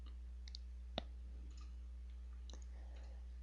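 A single sharp mouse click near the start, followed by a few faint softer clicks, while working in CATIA V5 CAD software, quiet and close with a low steady hum underneath.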